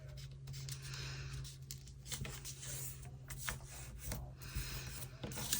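Paper folded and creased by hand to form a hinge for a hinged pocket, a soft continuous rubbing and rasping that runs quietly throughout with small scraping swells.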